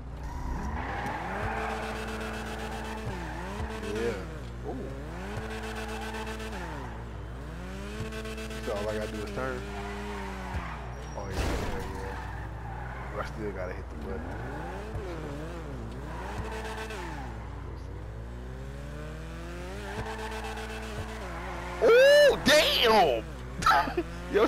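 A car drifting in Grand Theft Auto V, its engine revving up and down in repeated sweeps with tires squealing through the slides, loud and close, ending in a burst of harsh skidding.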